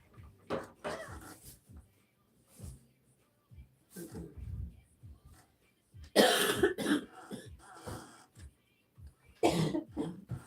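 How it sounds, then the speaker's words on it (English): Several rough, hacking coughs from an Irish Setter in short bursts with quiet gaps between, fairly close, one louder cluster midway. "Stop coughing."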